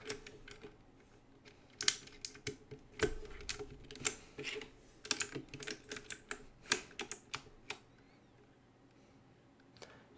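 Keys on a custom-built mechanical keyboard with red switches clack in quick, irregular bursts, close and crisp, with a busier run in the middle before it tapers off.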